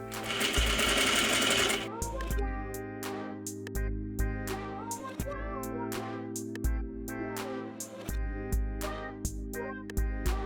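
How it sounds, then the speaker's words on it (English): A sewing machine stitches bias tape onto a 1/4 inch seam allowance on wide-leg trousers, running in steady close-up bursts with brief stops and restarts, over a faint background and a speaking voice. "begin sewing your bias tape to your seam allowance with a 1/4 inch or 6mm seam allowance"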